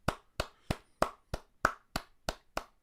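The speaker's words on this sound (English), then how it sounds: "So give yourself a round of applause." Nine sharp hand claps ring out at an even, brisk rhythm, close and crisp with brief silence between each.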